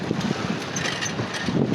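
Strong wind buffets the microphone in a steady rumbling roar, with gusty low thumps throughout and faint water sounds of waves beneath, on the coast at Bato, Leyte.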